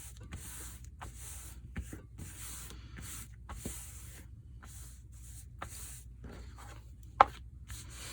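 Fabric smoothed onto a disc with a straight edge for a Christmas junk journal, heard as quiet repeated brushing strokes, each a soft hiss in an irregular rhythm, close up and faint, with one sharp tap near the end and no talk.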